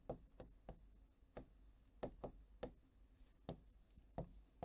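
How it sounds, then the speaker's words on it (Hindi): Chalk or marker strokes on a classroom board during a Class 7 maths lesson on large numbers, about a dozen short scratchy taps and scrapes in an irregular rhythm, close and fairly quiet with no talking. "देखो मैं यहां लिखता हूं"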